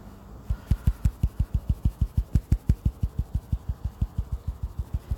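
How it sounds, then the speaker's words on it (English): Long fingernails tapping on a phone screen, a rapid even series of about thirty crisp close taps that runs steadily throughout, with no talking. "if you hear tap, tap, tap, it's because my nails are really long again"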